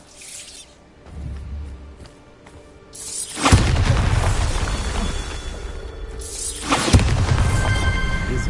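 Two heavy blasts of the Bombarda spell in a Harry Potter video game, each a sudden loud boom trailing into a long rumbling roar, the second following a few seconds after the first.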